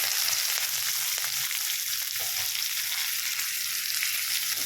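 Chopped onion and green chilli pieces crackle and fry in hot oil for a tomato curry, giving a close, loud, continuous sizzle with fine popping throughout.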